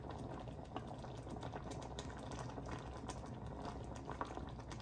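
A pot of sour soup with pork slices boils steadily, a close continuous bubbling and simmering texture with small pops throughout and no talking.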